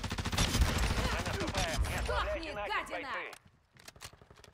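Rapid automatic gunfire from new weapons in the video game Call of Duty Modern Warfare II Warzone 2.0, dense bursts with voices talking over them before the shooting stops abruptly.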